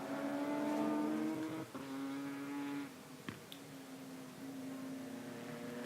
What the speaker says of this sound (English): So across the line for Frederick Blomstead into his 20th lap of the race